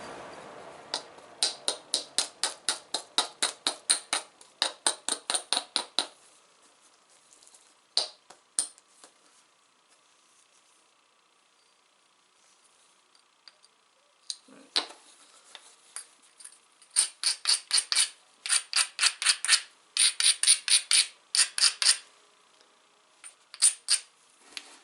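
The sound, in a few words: striking flint to knock off a thick spot while flintknapping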